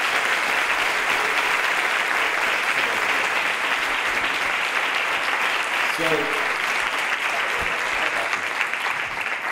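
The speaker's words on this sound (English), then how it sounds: "Big round of applause." A conference audience at a business session gives loud, dense, continuous applause that stays full and steady throughout, with a brief spoken word emerging partway through.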